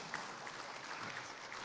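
Faint, brief applause from an audience at a startup conclave award ceremony, a soft scattered patter of clapping heard at a distance.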